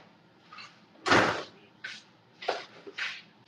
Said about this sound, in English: I hear like a little knock at my door